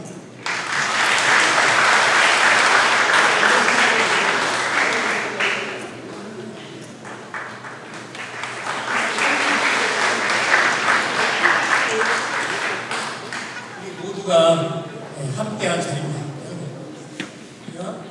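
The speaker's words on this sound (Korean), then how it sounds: "유만호 심사위원님께 새로운 그 박수 한번" A gymnasium crowd at a Korean workplace sports association competition applauds the head judge in two long swells of clapping, fading between them, with a voice on the PA and scattered taps near the end.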